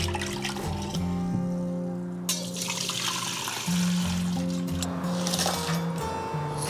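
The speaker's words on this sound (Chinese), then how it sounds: "然后虾头的话，我们要多清洗几遍。" Shrimp heads are rinsed under a running kitchen tap, a continuous splashing stream with sloshing and a few clunks as the heads are handled in the sink, fairly close, with a faint tonal hum underneath.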